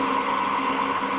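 A three-phase 4-pole induction motor runs steadily near 1490 rpm, giving a constant, fairly loud electric hum with a continuous whine and no talking.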